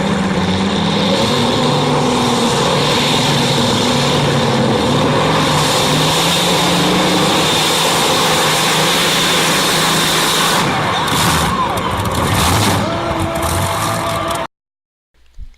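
A tractor engine pulling a sled holds a loud, heavy, continuous drone from close by for about fourteen seconds, then cuts off abruptly.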